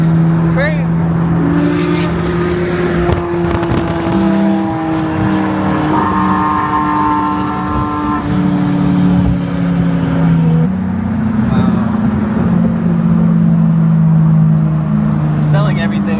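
A Porsche 992 GT3's engine sings loudly and steadily while driving, its tone rising and shifting through gear changes, with people talking over it throughout.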